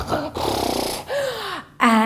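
A storyteller's voice imitating loud snoring, with a few rough, drawn-out snore sounds broken by short pauses and ending in a sharp snort.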